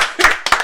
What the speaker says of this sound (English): Everybody give a round of applause to Moose.